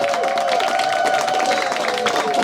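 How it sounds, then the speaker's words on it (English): An Edinburgh Fringe comedy audience applauding as a comedian walks to the stage: dense, sustained clapping from a sizeable crowd with some cheering mixed in, loud and unbroken throughout. "you guys even clapped till I got to the stage nearly"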